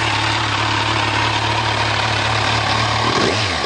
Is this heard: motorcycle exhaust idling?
yes